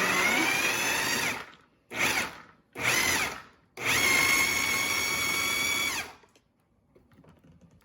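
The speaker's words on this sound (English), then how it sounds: "I put them in the food processor, a little at a time" A food processor grinds nuts for baklava in several loud motor bursts, a short run, two brief pulses, then a longer steady whir that cuts off into quiet.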